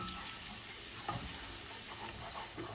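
Flour roasting in oil and butter gives a soft, continuous frying hiss with a few light stirring clicks and a brief scrape, fairly quiet and steady throughout.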